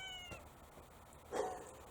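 A house cat meows in a garage during work on a 1970 Impala rear axle, a couple of short, fairly faint cries with a slightly louder one near the end, no talking.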